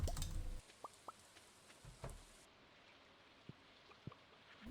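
Rain in the farming game Stardew Valley, a soft steady patter spread across the clip with scattered brief plinks and taps, faint and quiet with no talk.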